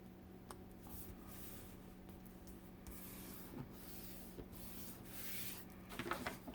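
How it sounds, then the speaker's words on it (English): Glued paper pieces for a paper bag album are burnished down by hand, making soft, close rubbing and scraping strokes over a low, steady background hum. "I'm going to burnish those down"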